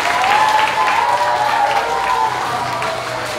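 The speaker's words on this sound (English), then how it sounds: "Let's give her a big round of applause." Audience applause at an elementary school awards assembly for grades three to five, a dense, steady wash of clapping that fades slightly toward the end, with a faint tonal hum underneath.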